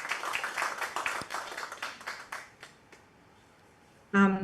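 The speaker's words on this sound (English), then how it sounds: "can we get a warm round of applause for Ms." Applause for a speaker at a conference capacity-building session, many hands clapping loudly at first, then thinning to scattered claps and fading to near silence before a brief louder sound at the end.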